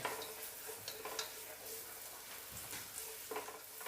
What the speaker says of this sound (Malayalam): ഉള്ളി ആവശ്യത്തിന് വഴന്ന് വന്നിട്ടുണ്ട്.